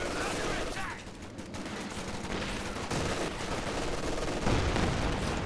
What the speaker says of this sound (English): Strug actually reveals its position using its machine gun to fire at this squad of riflemen